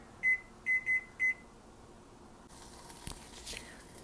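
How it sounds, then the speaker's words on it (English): A kitchen timer being set gives four short electronic beeps in quick succession, a single one followed by a group of three, then quiet room tone with faint rustling. "and set the timer."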